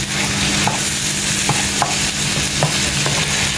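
A spoon stirs tomatoes and capsicum in a hot pan while they fry for pav bhaji, giving a steady sizzle with a few sharp scrapes and clicks of the utensil against the pan.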